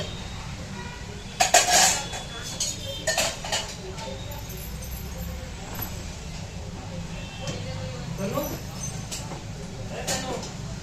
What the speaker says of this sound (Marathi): भांडे लावून घेते थोडेसे.